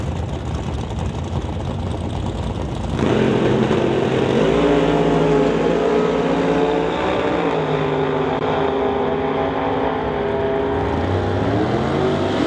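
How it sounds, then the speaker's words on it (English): Mid-1960s GM drag racing with a 1967 Chevelle and a Canadian door-slammer rival at a Canada West qualifying event: loud engines roar and rev from the start, swelling sharply after a few seconds into a sustained full-throttle howl with rising tones. "his 1967 Chevelle in the battle of the mid-60s GM products"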